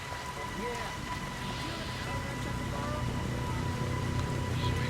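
Steady rain in the video game Splinter Cell: Pandora Tomorrow hisses continuously, with a low rumble underneath and faint tonal hum throughout.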